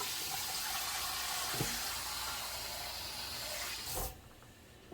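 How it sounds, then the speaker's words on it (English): Hot water pours into a dish for a flan de queso water bath, a steady splashing hiss that runs for about four seconds and then cuts off abruptly. "I'm going to actually put some more hot water in here"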